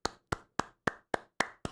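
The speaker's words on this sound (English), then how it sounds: "Let's clap it up to that Dallas defense." Seven sharp, evenly spaced hand claps from a single person, close and crisp with a short ring after each, about one clap every quarter second with nothing else heard.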